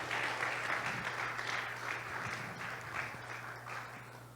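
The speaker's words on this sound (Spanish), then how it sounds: "If the applause is for the Lord, come on, we can do better than that." A church congregation applauds in a large room, a dense, even patter of many hands heard at moderate distance over a low steady hum, slowly tapering off.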